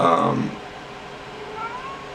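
A cat lets out a drawn-out meow at the start, then a fainter, thinner meow trails in later over a steady background hiss.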